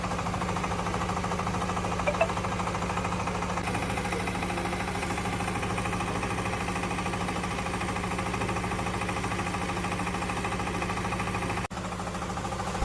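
A pan mixer machine with a granite-lined platform runs steadily in a brick-making unit, giving a continuous close mechanical drone and hum that holds level throughout, briefly dipping near the end.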